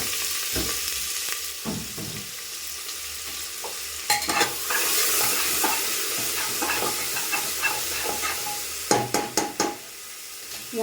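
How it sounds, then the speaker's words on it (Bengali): Chopped onions hit hot oil in a home kitchen pan as a Bengali goat mutton curry begins, a steady sizzle broken by scraping stirs and a few sharp clatters, close and loud without talk. "পেঁয়াজটা ফোড়ন দিলাম।"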